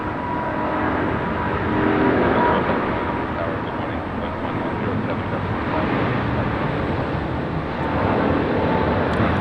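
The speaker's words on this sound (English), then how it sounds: "Also hearing a takeoff on 25 right." An airliner takes off from runway 25 right at LAX, a steady, loud broadband jet roar that swells slightly and holds throughout, with no pauses.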